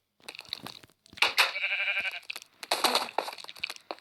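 Several bleats from a sheep in Minecraft in quick bursts, close and fairly loud, with short gaps between calls and some faint crunching noises.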